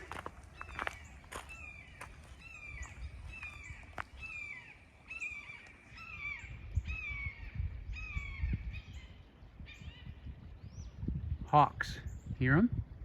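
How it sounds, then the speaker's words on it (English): Hawks calling overhead during a winter walk, a series of repeated high descending cries spread across most of the stretch, moderately distant, with crunching footsteps underneath and a person talking near the end. "Hawks, hear them? Two of them."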